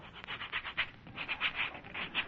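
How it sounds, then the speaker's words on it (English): A brush scrubs a man's back as a 1940s radio comedy sound effect, a steady series of rhythmic rubbing strokes, close and moderately loud, with no talking. "All right, here's the brush. Scrub my back."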